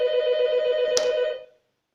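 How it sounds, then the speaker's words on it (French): A telephone rings once with a bright electronic tone, holding steady for about a second and a half before stopping abruptly, close and clear, with no one speaking over it. "puisque je suis interrompu par le téléphone"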